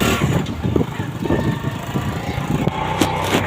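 A motorcycle engine runs steadily close by with a rider seated on it, giving a continuous low rumble with faint irregular pulses and no talking.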